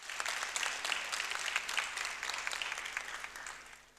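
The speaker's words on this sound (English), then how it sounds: "So let's give him a big round of applause." Applause from an audience at an inauguration ceremony, dense and moderately distant clapping that holds steady for a few seconds, with no talk over it.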